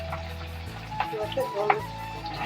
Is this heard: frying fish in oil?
yes